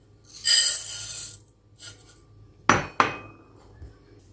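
Dry beans, chickpeas and cracked wheat are tipped into metal cooking pots: a long rattling pour of grains, a short second trickle, then two sharp metallic clanks of pot and lid, close and loud with no voices.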